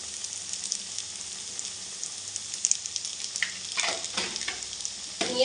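Veg chow mein is stirred and tossed in a hot pan: a continuous bright sizzle with scraping, clattering bursts of stirring toward the end, close up and with no talk.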